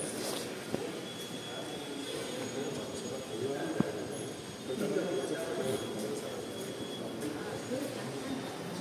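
Metro train rumbling steadily along the rails with a broad, continuous roar and a few brief clanks, while people talk nearby throughout.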